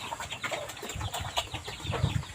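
Hens clucking and murmuring in short, irregular bursts close by, with a busy outdoor background and low rustling underneath.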